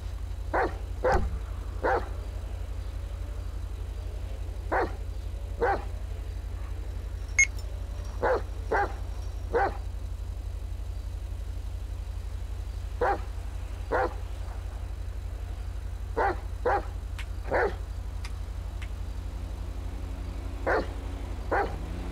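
A dog barks repeatedly in GTA FivePD roleplay, single and paired barks scattered irregularly over a steady low engine hum, fairly near and clear, with no talking.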